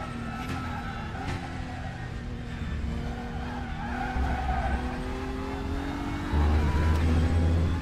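Race car tires scrubbing and squealing from understeer in a DTM racing game at Sepang, a sustained tonal squeal over the engine drone that rises and shifts pitch through the corner.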